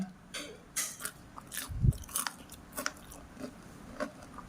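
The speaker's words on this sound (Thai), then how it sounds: "เดี๋ยวแม่จะทานให้ดูว่ากรอบไหม" Crispy fried champedak bitten and chewed up close, giving a few quiet crunchy bites followed by soft, irregular chewing crackles.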